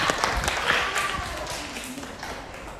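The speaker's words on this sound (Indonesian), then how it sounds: "terima kasih, tepuk tangan buat Aura dan siapa tadi?" A classroom full of people clapping together in a dense, steady patter of applause that carries on throughout, with a faint voice mixed in.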